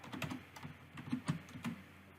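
Password keys tapped on a computer keyboard, a quick uneven run of soft, close clicks with small gaps between keystrokes, quiet and without talk.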